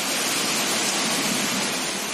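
Heavy rain pours down during a sudden night storm over a capital city, a dense, steady roar that fills the whole clip without a break and with no voices.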